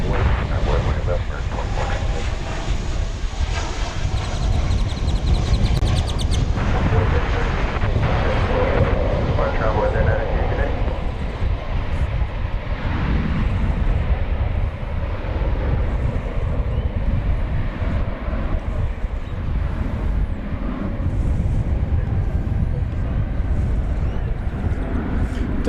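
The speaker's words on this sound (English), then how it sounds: "Delta coming in from Salt Lake City, flight 2798. 24-year-old Airbus A319." A 24-year-old Delta Airbus A319 on flight 2798 from Salt Lake City lands at DFW, its jet engines a heavy, sustained low rumble with a roar near the start, while a commentator talks over it.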